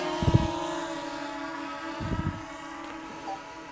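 DJI Mini 3 Pro drone carrying an Insta360 X3 camera, flying with a steady buzzing propeller whine and faint wind, with low thumps near the start and again around two seconds.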